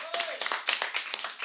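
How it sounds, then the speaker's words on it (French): TV show studio audience clapping, a fairly quiet cluster of distinct, sharp hand claps in an irregular rhythm, with a voice briefly audible beneath them. "on va applaudir Monsieur Maxime."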